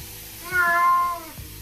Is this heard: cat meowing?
yes